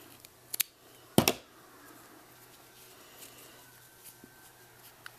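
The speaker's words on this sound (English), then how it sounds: "Cut the rest of the string off." Scissors snip through crochet yarn while a monster beanie is being made, two or three short, crisp cuts close by in a quiet room, the strongest snip landing near the middle.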